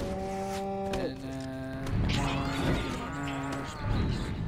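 Cows lowing in the video game Destroy All Humans, several drawn-out moos overlapping one after another at close range, mixed with game sound effects and no speech.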